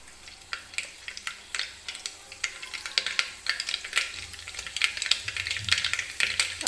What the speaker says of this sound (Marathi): सुरुवातीला मी तेलामध्ये टाकून घेणार आहे मोहरी व्यवस्थित तडतडू द्यायची आहे